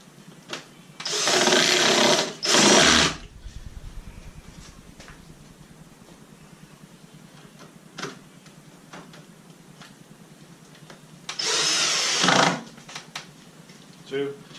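Two bursts of a power driver sinking screws to fasten a grinder wheel into its wooden base, each a couple of seconds of close whirring with a pause between and light clicks around them.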